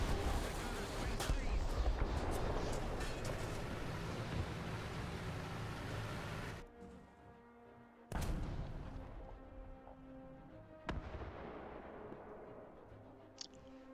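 Heavy gunfire and booming tank cannon shots in the War Thunder video game, a dense barrage of blasts followed by a few loud, sharp single shots that ring out and decay, with no talk over them.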